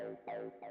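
A Roland TB-303 acid synth bass plays three short, close, buzzy notes in a raw techno pattern, each opening with a bright resonant filter sweep.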